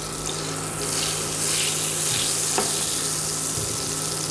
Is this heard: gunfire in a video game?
no